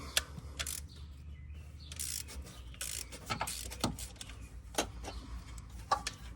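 Ratchet clicking as it loosens a 13 mm bolt on the alternator of a 2021 Chevrolet Blazer with the 3.6 V6, close-up bursts of quick mechanical ticks and clacks spread across several seconds, no talk.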